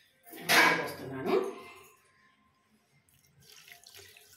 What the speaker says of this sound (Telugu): ఇప్పుడు వాటర్ పోసుకోవాలి, సరిపోను వాటర్ పోసుకోవాలి